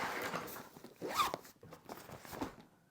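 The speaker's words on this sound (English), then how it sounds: "So we'll zip that back up." A zipper is pulled shut along a pocket flap on a Nitecore BP23 backpack, giving several quick, close rasping strokes over about three seconds with brief pauses, and no talking.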